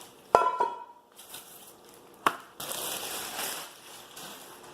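A 6.5-quart non-stick cooker pot lifted out of a Ninja Foodi, with a couple of sharp metallic clinks and knocks followed by softer rustling and handling noise, close and fairly quiet.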